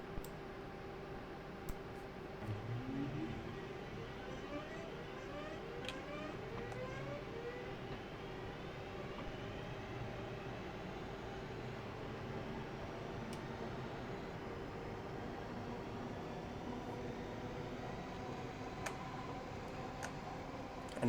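A Class 323 electric train pulls away in notch 1 in Train Simulator 2021, its steady motor drone carrying rising whine tones that climb as it gathers speed, with faint regular ticking over a continuous rumble and no talk.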